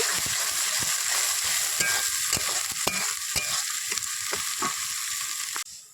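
Spice masala frying in mustard oil, stirred steadily with a spatula: a loud, continuous sizzle broken by repeated scraping strokes against the pan, close up and alone, ending abruptly.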